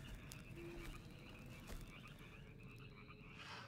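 Frogs croak at night in a quiet outdoor spot, repeated raspy calls in an irregular rhythm over a faint background hum, fairly distant and soft, with no talking.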